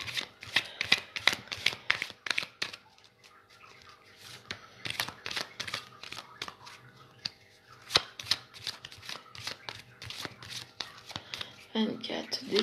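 Repeated crisp riffling bursts of cards being shuffled for a clairvoyance reading, close and fairly loud in quick runs with short pauses, while someone talks in between.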